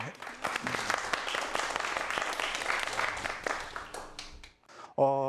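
An audience at a lecture on 3D printing technology claps for the speaker in a dense, steady burst of applause that fades briefly near the end before a short tonal sound cuts in.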